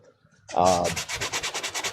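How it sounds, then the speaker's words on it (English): Rhythmic sanding strokes rasp back and forth on a plastic armor edge after a quiet start, a steady run of close, scratchy rubs. "You don't have to be worried about sanding the plastic down too much"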